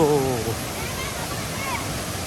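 Steady rushing roar of the Kroeng Krawia waterfall in Kanchanaburi, Thailand, heard from nearby as a continuous broadband wash, with a brief voice at the start.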